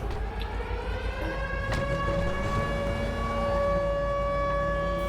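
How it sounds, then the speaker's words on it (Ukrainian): An air raid siren in the video game GTA5 wails continuously, a loud, sustained rising and falling tone that fills the scene on its own. "Повітряну тривогу об'явили."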